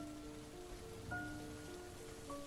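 Steady rain patters softly and continuously as a background effect in a Vietnamese ghost audio story, faint and even throughout, with no voices over it.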